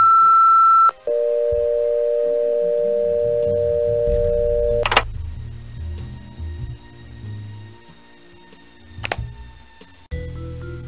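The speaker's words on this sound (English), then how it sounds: "After the tone, please leave your name, phone number," An answering machine in the Nancy Drew computer game Stay Tuned for Danger sounds its electronic tone: a sustained sine beep, then a lower steady tone, followed by muffled clicks and thumps of the line.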